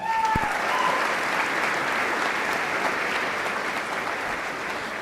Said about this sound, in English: Pretty please give him another round of applause.